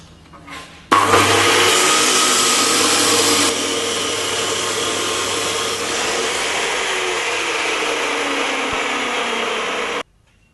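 A metal drop saw cuts steadily through stock under firm, even pressure, its loud broadband whine starting abruptly, holding for about nine seconds, then cutting off, with no talk.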